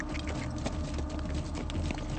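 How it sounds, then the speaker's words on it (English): Horse hooves clip-clopping along a well-packed caribou trail, a steady patter of muffled footfalls heard close over outdoor rumble. "It's only a short horse ride along a well-packed caribou trail to the other side"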